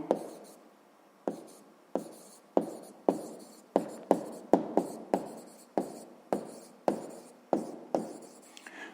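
Pen writing on paper by hand, a string of close scratchy strokes in a loose, uneven rhythm, with brief pauses between bursts and no talking.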